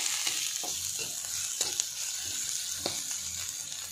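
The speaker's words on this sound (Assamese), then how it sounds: "জলকীয়া ভজা তেলটোতে মই এতিয়া পিঁয়াজ দি দিছোঁ।" Onions sizzle steadily in hot oil that was just used for frying chillies, with a constant crackling hiss and a few soft stirring clinks.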